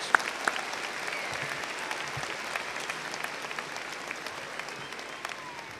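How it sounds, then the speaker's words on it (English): An audience at a 2015 high school graduation ceremony applauds the graduates, a distant, fairly soft wash of many hands clapping steadily in a large hall, with a few sharper claps standing out. "Join me in giving a round of applause, graduates."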